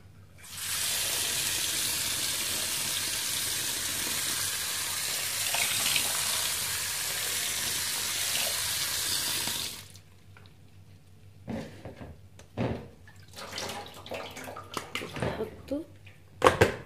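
Tap water runs in a steady loud rush for about ten seconds while lupini beans are drained and rinsed, then stops, leaving scattered clatters and splashes of the wet beans being handled.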